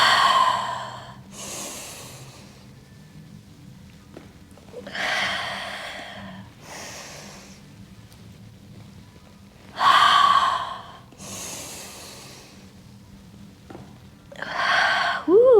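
Slow, audible exhalations and breaths during a yoga hip twist, several breathy puffs spaced across the stretch, close and soft in a quiet room.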